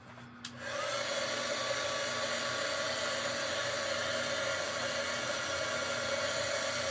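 A hair dryer blows steadily to dry a coat of paint on a Dollar Tree Christmas craft, starting after a brief click and running as a loud, continuous whoosh to the end.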